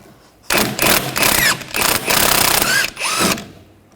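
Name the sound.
removing nut with 13mm socket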